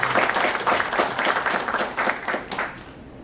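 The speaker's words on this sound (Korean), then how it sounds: "큰 박수 부탁드립니다." Applause from a forum audience in a conference hall welcoming a guest, a dense wash of many hands clapping steadily and then tapering off near the end, with no talk.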